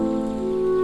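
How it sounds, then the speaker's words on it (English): Rain falling, a steady, even wash of drops on a surface that holds at one level throughout the short stretch, with no voices. "lot of people hate rain"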